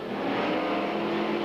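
Late model super stock race car pulling away at a 1993 oval track race, a steady loud engine roar held throughout with no clear rise or fade.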